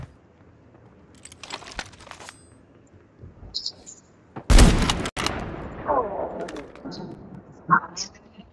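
Gunfire in Call of Duty, with scattered clicks and brief bursts leading to one loud, sharp shot and its ringing tail midway, followed by smaller noises and another crack, while someone talks at moments.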